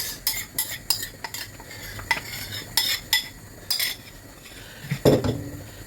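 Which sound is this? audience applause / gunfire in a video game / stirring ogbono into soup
stirring ogbono into soup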